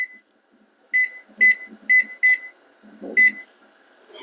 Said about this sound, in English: Now we will set the timer for 5 minutes.